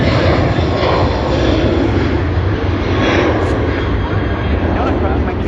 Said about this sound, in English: Cebu Pacific for its flight to Manila. They will be beginning their takeoff roll pretty soon.